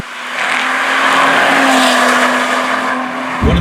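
A Lotus Evora sports car engine roars loudly and steadily under acceleration, building in a sustained drone with a rising tone, then a thump near the end.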